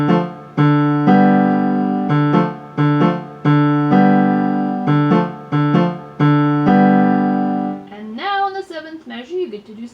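A piano plays the opening six measures of a jazz piece: full, sustained chords and notes in a lilting repeated pattern, close and fairly loud, with a short stretch of speech at the end.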